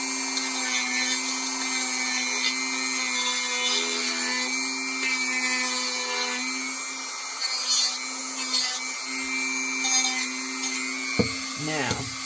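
A Dremel 4300 rotary tool sands wood with a steady high-pitched whine, its pitch dipping and shifting as it presses into the workpiece, ending with a few brief scraping bursts.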